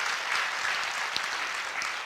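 A burst of applause in a church, steady clapping from a congregation that fills the whole moment, fairly close and even in loudness.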